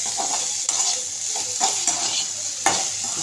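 A spatula stirs okra (ladies finger) frying in a pan, scraping and clicking in several quick strokes over a steady close sizzle.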